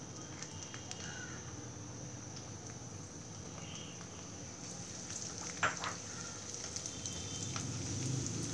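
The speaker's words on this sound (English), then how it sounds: "We don't need our oil to be very hot, so we can straight away add in our garlic." Garlic sizzles gently in olive oil that is not very hot, a faint, steady crackle with a few light clicks and one brief utensil knock partway through.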